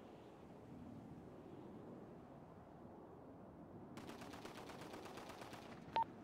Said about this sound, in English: who's shooting at us, bro?